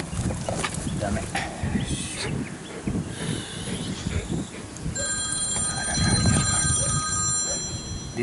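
A telephone rings with steady, evenly spaced tones partway through, sounding against rustling noise and movement during a session of trimming the nails of a dog that dislikes it.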